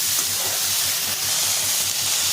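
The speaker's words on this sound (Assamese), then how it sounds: "এতিয়া মই কেৰাহীতে ভাজিছোঁ" Small misa fish frying in a hot wok, heard as a loud, steady broadband sizzle and hiss that runs unbroken throughout, with no talking.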